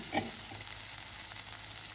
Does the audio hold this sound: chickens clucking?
no